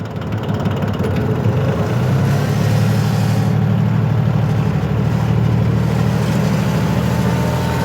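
A Cub Cadet riding mower with a Yanmar diesel engine being driven to park, giving a loud, steady low diesel chug and rumble that runs close up for the whole stretch without talk.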